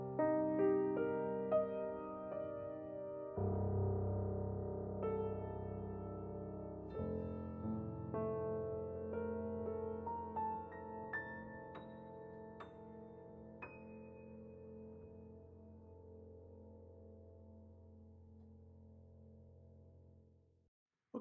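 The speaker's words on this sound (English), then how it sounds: "that XY pair of KM184s placed right in the curve of the piano gives us an up-close perspective" A piano is miked up close by an XY pair of KM184 microphones set in the curve of the instrument, playing sustained chords and melody that slowly fade into a long decay, with no talking.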